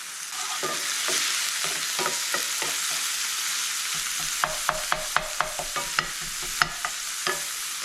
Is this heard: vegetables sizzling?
yes